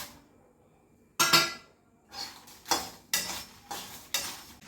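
Dry clatter of dried red chillies dropped into a pan of oil, then several bursts of crackling frying and stirring scrapes, close and fairly loud.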